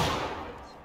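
A massed musket volley from a line of soldiers in the Civil War game War of Rights lands as one dense, loud burst and then rolls into a decaying rumble in under a second.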